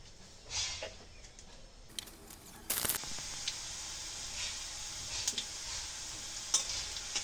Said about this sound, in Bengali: তেলটি গরম হয়ে গেলে পেঁয়াজ আর কাঁচা ঝাল ভেজে নেব